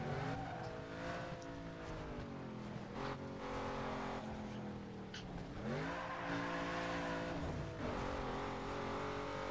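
A car boosts with nitro in the racing game Need for Speed Underground 2, engine roaring and revving in rising and falling sweeps throughout, with passing traffic, steady and fairly loud.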